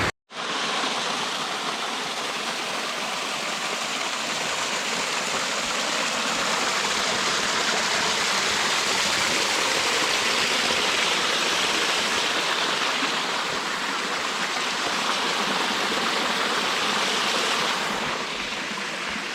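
Waterfall beside a mountain trail near Mt Le Conte, a steady, loud, close rush of falling water that stays constant for about twenty seconds, with no voices over it.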